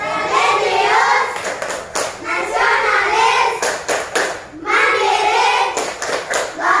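Classroom children clap in rhythmic patterned bursts while chanting together in unison, with short pauses between rounds of claps.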